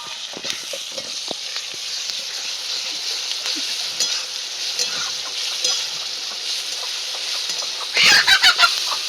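Hens with chicks cluck softly in the background amid a constant hiss, with a louder burst of clucking near the end.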